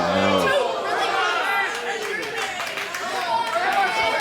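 Wrestling arena crowd in Sevierville, Tennessee reacting to a near fall in a women's match, a loud swelling roar of shouting and chatter with some clapping, with a commentator talking over it.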